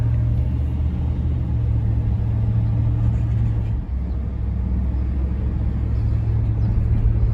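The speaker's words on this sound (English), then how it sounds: "Gosh, this car drives great." A 1971 Mercury Marquis Brougham with 18,000 miles cruising along, its interior filled with a steady low engine and road rumble that drones evenly throughout, with a brief dip midway.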